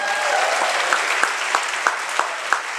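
Comedy club audience applauding a comedian named Matt at a standup comedy night, steady dense clapping with a few sharper claps standing out, fairly close and continuous without talk.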